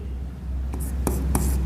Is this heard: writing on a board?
yes